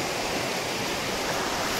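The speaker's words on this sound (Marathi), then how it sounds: "हे बघा मागे धबधबा पाहू शकता." A tall waterfall near Marleshwar temple in the Konkan region pours down as a constant, dense roar of rushing water, loud and unbroken with no voices.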